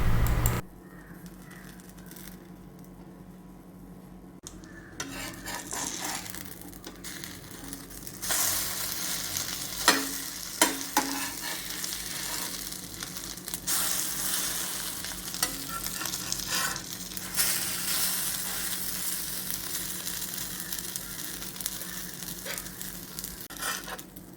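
Bread snack pieces frying in a pan while being stirred, a continuous close sizzle with repeated scraping and rustling strokes that grows fuller after the first few seconds.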